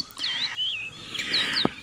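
A kacer, or magpie robin, sings a run of clear, loud whistled phrases with rising and falling sweeps and short chirps, close and alone.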